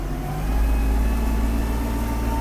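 Kubota GL-320 mini tractor, a 32-horsepower machine, running steadily as it turns sharply in place, with a close, constant mid-low engine drone and a faint rise in revs.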